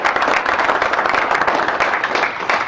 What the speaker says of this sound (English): So please give Kevin a round of applause.